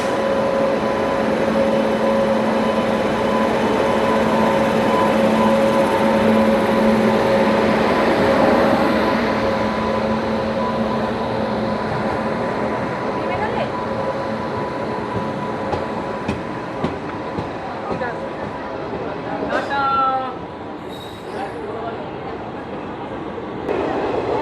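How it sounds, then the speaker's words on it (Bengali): The Kolkata–Digha special express pulls out of Mecheda station with a loud, sustained rumble of rolling coaches and rail clatter that gradually eases, ending in a burst of squealing and clicking wheels, with a voice briefly audible nearby. "চলো ট্রেন চলে গেল"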